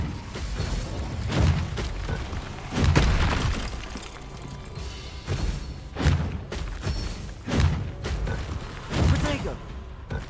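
Incendio fire spell cast in Hogwarts Legacy during combat: repeated heavy whooshing booms and thuds roll in every second or so, with crackling bursts and occasional voices in between.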